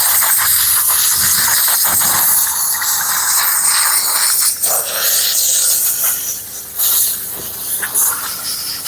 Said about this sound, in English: Now we're gonna go ahead and steam our plastic really quick.